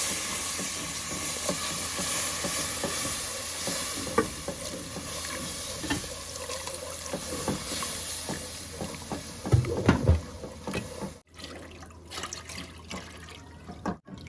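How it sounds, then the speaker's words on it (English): Milk being stirred slowly into butter in a pan for white sauce gives a quiet, continuous scraping and soft bubbling, with a few clinks of the spoon and a brief louder stir near the end. "And we have to keep stirring continuously, otherwise it's going to make lump."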